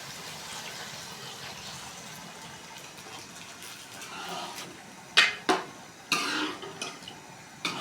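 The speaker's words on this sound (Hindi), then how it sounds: "ये देखो इसमें हम पानी डालने लगे हैं।" Water rushing and gushing as it's poured into a metal pot while cooking aloo chicken, with clanks of cookware and sharp knocks toward the end, recorded close up.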